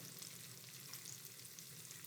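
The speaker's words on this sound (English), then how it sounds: "the salmon patties now are frying" Salmon patties fry in canola oil, giving a steady, dense sizzle and crackle that holds evenly for the full stretch with no voices.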